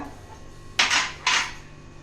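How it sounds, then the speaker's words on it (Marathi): A metal spoon spoons ghee into a cooking pan for narali bhat, making two sharp, close clinks of the utensil against the pan about half a second apart over a faint background hum. "आता आपण तूप टाकूया"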